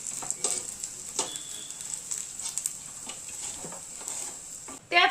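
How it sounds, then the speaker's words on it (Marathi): Onion fries in hot oil in a pan while misal is being cooked, giving a steady, bright sizzle with occasional stirring clicks and scrapes, close and moderately quiet, with a louder clatter at the very end. "त्याच तेलात आपल्याला कांदा छान भाजून घ्यायचा आहे।"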